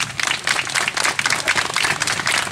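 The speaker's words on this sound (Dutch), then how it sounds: "applaus voor onze dansmariekes" An audience claps and cheers for the carnival dance girls (dansmariekes) at a season-opening carnival event in Geleen, with dense, steady applause filling the whole stretch.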